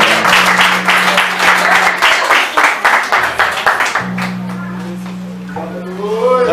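A church congregation at an evening worship service claps in a steady rhythmic beat, loud and close, with a sustained musical tone underneath and voices joining toward the end.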